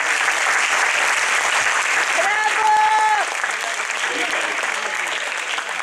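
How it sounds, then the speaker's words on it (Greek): Audience applause for contest winners at a Greek football goal competition event, loud continuous clapping with a brief tonal sound partway through. "Ένα χειροκρότημα"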